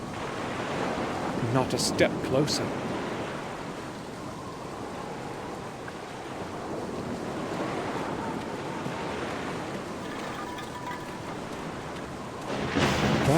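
Ocean waves roll and wash steadily far below a misty cliff near a lighthouse in The Black Mirror game, a broad continuous surf hiss with a short spoken line and a brief rise in noise near the end.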